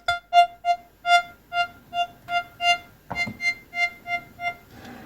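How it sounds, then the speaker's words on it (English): Soft broken chord pad played on a Korg Volca Keys synthesizer with lowered cutoff and slower attack, gentle repeating synth notes pulsing in an even arpeggio-like rhythm, clean and close with no voices. "for the Volca Keys, I want to create a kind of a broken chord pad."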